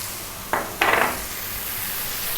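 Sweet and sour sauce made with white vinegar, light soy, fish sauce and ketchup, stirred in a pan over high heat: two quick clinks of a utensil against the pan, then a soft, steady sizzle, without any talk.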